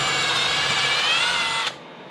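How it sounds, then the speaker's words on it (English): Drill boring under only the weight of the machine for a bridge placement, a steady high whine running close and loud before abruptly winding down near the end. "I'm not putting any pressure on the drill, I'm just using the weight of the machine itself."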